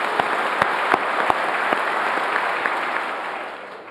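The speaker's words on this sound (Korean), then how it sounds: "하루하루 새로운 삶을 개척하고 계신 3만 4천 명의 북한 이탈 주민 여러분께 경의와" An audience at a ceremony marking the first North Korean Defectors' Day applauds in encouragement, with a steady, full wash of many hands clapping and a few sharper claps standing out, fading slightly at the end.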